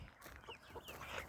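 Farm chickens, one of a flock of about a hundred, give a few soft, faint clucks in quick succession against a quiet background.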